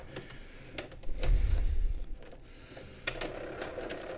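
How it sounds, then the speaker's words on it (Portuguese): An inkjet or desktop printer working through a print job, with mechanical whirring and clicking of the paper feed and print head, including a louder burst of motor grinding partway through. "botar papel na impressora, mandar imprimir e o troço imprimir"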